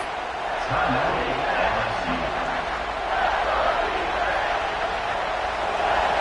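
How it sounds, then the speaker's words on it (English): Football stadium crowd roaring in a steady, sustained wash of noise as the defense tries for a stop near the goal line, with a faint voice briefly audible early on. "the crowd really making some noise now, trying to help out this defense"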